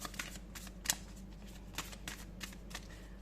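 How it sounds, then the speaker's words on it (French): A tarot card is drawn from the deck and turned over, giving a string of soft, quick card flicks and slides at close range, with no voice. "Je prends toujours une seule carte et comme ça, elle est retournée."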